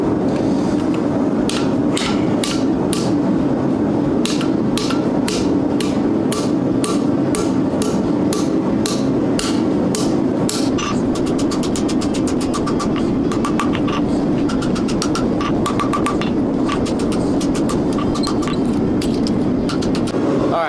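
Steady ringing hammer blows on hot steel at an anvil while forging a scroll for a hinge loop, first evenly spaced then speeding into a rapid flurry of strikes, loud and close over a constant roar of the forge.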